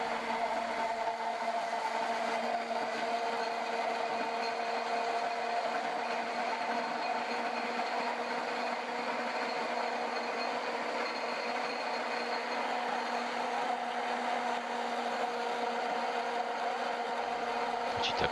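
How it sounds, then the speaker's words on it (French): A blender hums steadily for a long stretch, mixing lye into oils for homemade soap, a constant motor whine with no talking. "nous allons utiliser le mixeur pour activer la réaction chimique."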